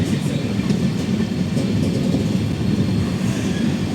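Amrit Bharat Express 17041 on its inaugural Thiruvananthapuram to Hyderabad run, pulling away after a stop and rolling steadily with a continuous low rumble and faint clickety-clack of wagons, loud and close throughout.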